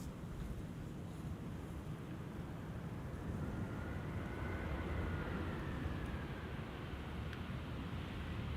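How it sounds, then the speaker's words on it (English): Vueling airliner landing on the Polderbaan runway at Amsterdam Schiphol, heard as a steady distant jet roar that swells slightly mid-clip, mixed with wind buffeting on an outdoor microphone and no talk. "Hans' favorite is now landing. It is Vueling."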